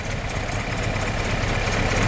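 A 1950 Willys Panel Wagon engine idles steadily, a continuous low rumbling drone with no breaks or talk.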